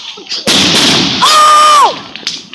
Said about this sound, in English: we just picked up our own fireworks